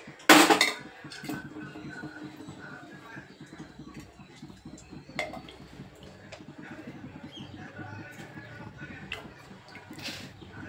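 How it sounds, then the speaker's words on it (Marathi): A kadhai pan is set down on a gas stove with a sharp metallic clank at the start, followed by faint scraping, knocks and handling noises over a low background hum. "आता कढई ठेवली मी"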